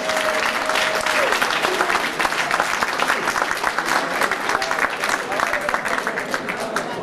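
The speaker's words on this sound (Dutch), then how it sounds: "Dames en heren, nogmaals een groot applaus voor de twee meisjes." Audience at a children's show in Klarenbeek gives a big round of applause for two girls, dense continuous clapping with crowd noise throughout and a faint tone in the background.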